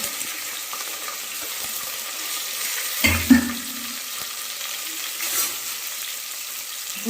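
Green chillies, curry leaves and onion fry in hot oil for a basmati veg biryani, giving a continuous sizzle with a few clattering stirs and scrapes of a spoon in the pan, heard close up with no talk.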